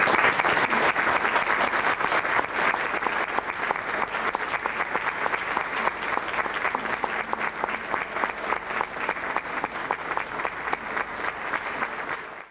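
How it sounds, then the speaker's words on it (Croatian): A theatre audience applauds after a talk, sustained dense clapping from many hands that runs steadily for over twelve seconds at an even, moderately loud level, with almost no voices over it. "Svjetlo i aplauz za moj publiku"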